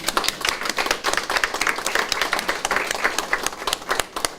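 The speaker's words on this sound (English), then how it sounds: "Give her a round of applause." An audience claps steadily and briskly for a school award winner, a dense burst of applause from a nearby crowd lasting throughout.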